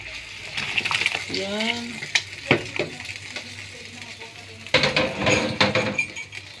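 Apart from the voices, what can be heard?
onion and tomato put into a pan, sizzling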